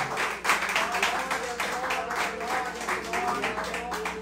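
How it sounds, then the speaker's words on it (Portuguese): A church congregation claps together at a fairly even, rhythmic pace during a worship service, moderately loud, with faint voices and tonal sound underneath. "Aplauda ao Senhor com o seu melhor."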